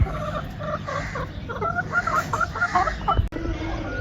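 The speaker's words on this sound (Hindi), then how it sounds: "ये घर के मुर्गे हैं माशाल्लाह से, सारे मुर्गियाँ भी और मुर्गे भी सारे घर के पाले हुए हैं।" Home-raised chickens and roosters clucking and calling close by in a village in the early morning, a cluster of short repeated clucks rising in the middle, over a steady outdoor background.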